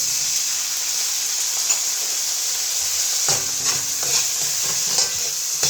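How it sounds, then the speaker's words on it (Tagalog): Tomatoes going into a pot for Filipino sinigang beef soup, with a steady bright sizzle and hiss of frying and occasional soft stirring scrapes and clinks, close and continuous. "Tapos ilagay ko itong kamatis."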